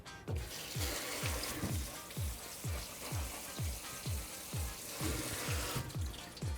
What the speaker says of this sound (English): we're gonna shock it with some cold water